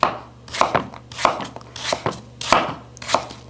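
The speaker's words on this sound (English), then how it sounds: "Make nice thin slices." Apples are sliced thinly for a pie, each cut landing as a crisp knife stroke on a board in a steady rhythm of about six close, distinct chops with no talking.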